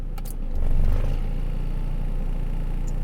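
Car engine idling steadily with the air conditioning switched on after a blown fuse was replaced, starting with a brief swell in revs and then settling into an even, low hum.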